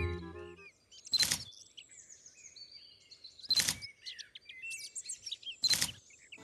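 Birds chirp in a children's animal cartoon, bright tweets and whistles over three loud swooshing bursts spaced a couple of seconds apart, with no talking.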